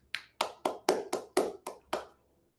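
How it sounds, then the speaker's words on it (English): Eight separate hand claps in a fairly steady rhythm, close and crisp, from a single person applauding during an online Toastmasters club meeting, with no voices. "And let us use a round of applause, Toastmaster Ashwini."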